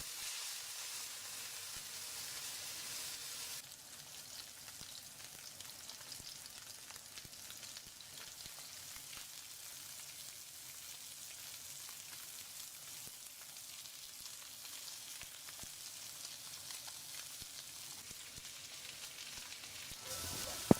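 Curry base with salt and turmeric sautés in a pan for a biryani, giving a faint, steady sizzle that carries on without a break and with no talking.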